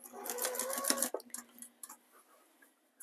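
A sewing machine running briefly while machine binding a quilt with a 1/4 inch seam allowance, a close, quick burst of stitching that stops after about a second, followed by faint clicks.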